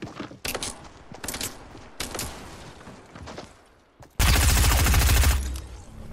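Video game gunfire: several scattered single shots are followed by a sustained loud burst of automatic fire near the end, close and harsh, with no talk.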